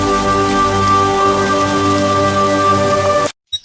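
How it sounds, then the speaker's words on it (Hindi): Rain falls steadily as a sound effect in a narrated story, a dense, even hiss of drops on a surface that runs loud and unbroken before cutting off abruptly near the end, with no voice over it. "दोनों भाई बहन पेड़ के नीचे बैठी बारिश देखते रहे।"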